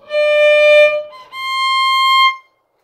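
Violin playing two sustained bowed notes from a Brandenburg concerto excerpt, D and then C natural, each held about a second with a rich, bright overtone series, close and clear with a brief gap between them.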